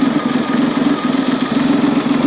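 A Citroen XM 3.0 24V engine idles steadily just after starting, a loud, even low rumble with a fast regular pulse and no talk over it.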